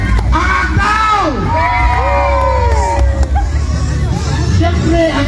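Crowd at a disability peace rally in Davao City cheering and shouting loudly and continuously, with voices rising and falling over a dense roar of babble.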